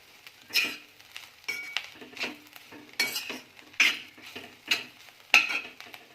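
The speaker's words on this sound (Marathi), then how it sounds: "आता आपण हे परतवून घेणार आहोत" A spoon stirs and sautés bitter gourd curry with peanut powder in a pan, giving a series of irregular scraping and clinking strokes with a faint sizzle underneath, close and fairly quiet.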